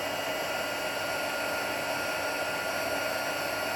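Heat tool blowing steadily and close while heat embossing a stamped card, a continuous airy whir with no pauses and no talk.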